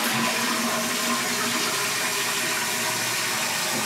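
Toilet tank refilling through a newly installed fill valve, a steady loud rush of water hissing into the tank throughout, close by and alone.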